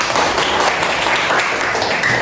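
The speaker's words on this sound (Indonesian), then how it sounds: "Tepuk tangan untuk kalian semua" Classroom applause during a speech-writing lesson, a short, steady wash of clapping from students at moderate distance, continuous throughout.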